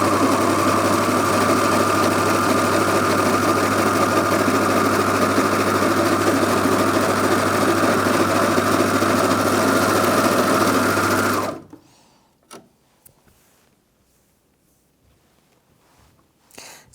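A Brother Airflow 3000 overlocker stitches stretchy fleece fabric, a loud, steady high-speed motor whir with rapid needle chatter running continuously for about eleven seconds before stopping abruptly, followed by a few faint handling clicks.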